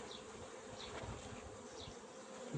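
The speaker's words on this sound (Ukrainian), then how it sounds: "щось бджолки трошки сьогодні неспокійні" Honey bees buzz steadily around their hives in an apiary, a continuous quiet drone with a few individual bees passing close, no voices.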